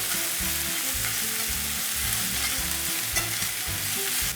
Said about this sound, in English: I'm just going to stir these for maybe 2 minutes until I see them getting translucent